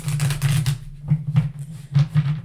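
Bursts of crisp riffling and slapping from tarot cards being shuffled close by, in several quick rounds with short pauses, over a steady low hum.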